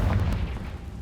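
Confringo blasting spell in Hogwarts Legacy, a single heavy low boom that rumbles briefly and fades over about a second, loud and close.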